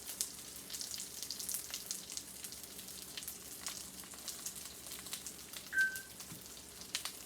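Eggplant sizzles in oil in a pan, giving a faint steady crackle and hiss, quiet and unbroken, with a brief tonal beep near the end and no talking.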